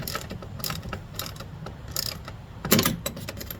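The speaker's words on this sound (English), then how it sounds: "Definitely easier with a ratchet instead of turning it by hand the whole way." A hand ratchet clicks in short bursts while tightening roof rack bolts on a 2019 Honda Pilot, close-up rapid pawl ticks repeating in several quick strokes with a louder cluster near the end.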